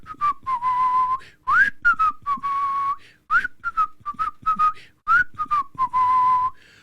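A person whistles a simple tune alone in short, clear phrases with brief gaps, nearby and fairly loud.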